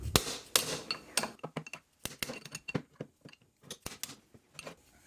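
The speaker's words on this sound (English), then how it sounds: "Then I hit it with a hammer here and come back to the other side." Hammer striking a square screwdriver set into a Saginaw Model 708 power steering gear during a rebuild, a run of sharp metallic taps in quick irregular bursts, close and fairly quiet.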